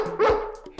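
A dog barks in the Brawl Stars video game, a short sharp yip followed by a second bark, close and clear over a steady game soundtrack.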